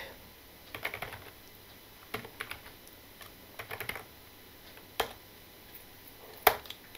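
Code being typed on a computer keyboard: soft, scattered clusters of key clicks with short pauses between bursts, a few sharper taps standing out, close and quiet with no talking.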